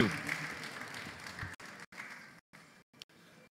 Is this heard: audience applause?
yes